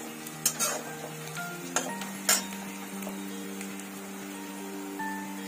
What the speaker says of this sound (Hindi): थोड़ी थोड़ी देर में प्याज को चलाते रहें।